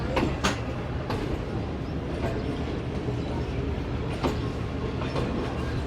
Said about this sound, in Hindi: तो ये ट्रेन ट्रैक चेंज करके हमारी मेन लाइन पर आ रही है